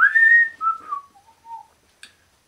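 A man whistles a jazzy melody, alone and up close; gliding notes fall in pitch and end with a brief click.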